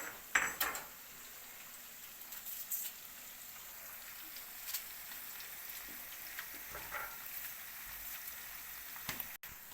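Anchovies sizzle quietly in a pan with a steady crackling hiss, broken by occasional clinks of utensils against the pan.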